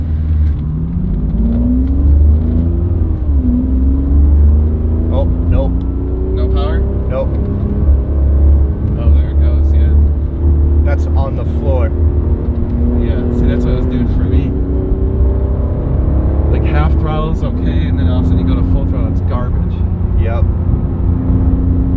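Ferrari 575M engine droning loudly with a steady low rumble and rising, falling pitch while driving, heard from inside the car under continuous talk.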